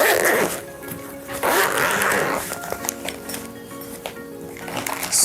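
OMRON nebulizer carrying pouch being unzipped and opened, several loud close zipper rasps and fabric rustles with soft clinks from the contents inside.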